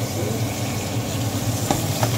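Chicken for arroz caldo sizzles steadily in a pan, a constant close frying hiss with a couple of light utensil taps near the end and no talking.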